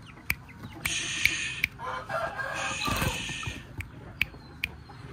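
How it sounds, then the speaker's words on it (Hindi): White Shamo chickens with their small chicks, a rooster crowing and hens clucking at close range, with sharp intermittent calls over a steady farmyard background. "ये जी वाइट शामू के छोटे चूजे हैं।"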